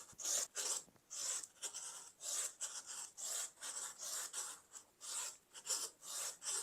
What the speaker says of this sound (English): I'm going to bring my clearly slotted trimmer ruler and I'm going to trim it to the size that we're supposed to have